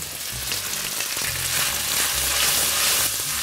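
A cup of water poured into a hot frying pan holding garlic pasta bursts into loud, steady hissing and sizzling, close and continuous with faint stirring, no talk.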